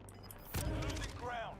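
Burst of gunfire in the video game Call of Duty, a loud crack followed by rattling shots over a busy battlefield, with voices talking during it.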